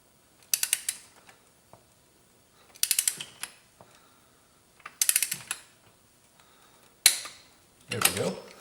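A torque wrench ratchets in short bursts while tightening spark plugs on a Jeep Grand Cherokee WK V6, four or five quick clicking runs separated by pauses, close and crisp.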